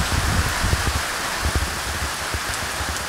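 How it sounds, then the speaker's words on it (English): Steady rain falls outdoors beside a muddy river dock, a continuous broadband hiss with scattered low thumps from drops, loud and close throughout with no talking. "It's starting to rain again"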